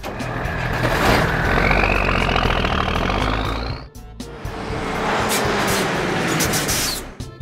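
A pink toy aircraft catering truck's engine rumbles loudly with a climbing whine, drops out briefly with a hiss like an air brake, then resumes as a heavy, steady engine roar, with no speech.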